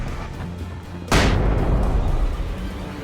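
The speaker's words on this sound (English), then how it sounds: "you can use flashbangs for a similar effect" A flashbang detonating in the video game Alan Wake, a single loud sudden boom over a steady background bed, followed by a sustained roaring decay.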